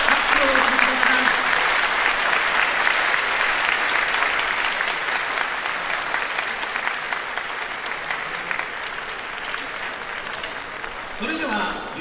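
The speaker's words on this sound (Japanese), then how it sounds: "どうぞ盛大な拍手をお願いします。" Loud, sustained applause from a large crowd at a horse racing trophy ceremony, steady clapping filling the whole stretch with a brief swell near the end.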